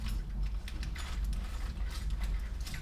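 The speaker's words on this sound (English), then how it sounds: "We're just going to put 2 regular screws in there for now, just to hold it up." Screws driven into drywall to temporarily hold up a Kohler digital shower valve, a steady mechanical whirring and ratcheting drone that runs loud and close through the whole stretch.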